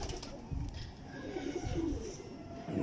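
A teddy pigeon from the Mian Nazeer bloodline coos softly, with low repeated coos in short bursts. The sound is faint and close, with no talk over it.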